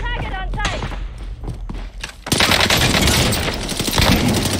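Call of Duty Warzone gunfire, a dense burst of rapid shots that runs for a few seconds at close range after a few short, sharp game sounds.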